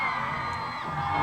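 A crowd at a strip show cheers and whoops loudly in a dense, continuous roar, with high yells rising above it, heard for a brief moment.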